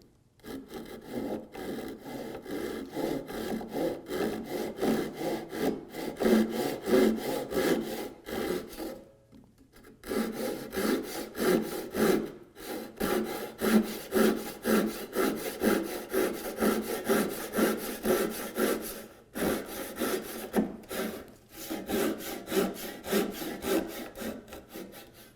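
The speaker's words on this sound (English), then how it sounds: "So I'm doing a cross cut on this." A hand saw cross-cuts a wood piece for a rocking chair, steady rhythmic push-pull rasping strokes close up, pausing briefly twice before resuming.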